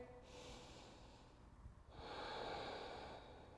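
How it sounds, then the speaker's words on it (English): Slow, deep breaths during yoga practice, close and quiet: one long exhale through the nose, a short pause, then another full breath, with no talking. "Take a couple of breaths here."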